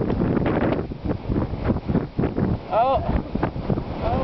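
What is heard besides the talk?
strong wind on a mountain summit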